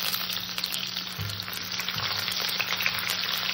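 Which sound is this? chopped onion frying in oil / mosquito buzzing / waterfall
chopped onion frying in oil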